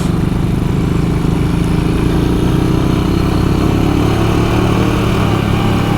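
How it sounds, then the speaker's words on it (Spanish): A motorcycle engine runs loud and close on a wet mountain road, its steady rumbling drone continuous throughout with no pauses. "Vamos a tratar de esquivar al biker que viene alentando todo."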